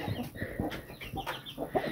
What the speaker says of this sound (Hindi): यहाँ पर मूसा भाई का मुर्गा और साथ मुर्गी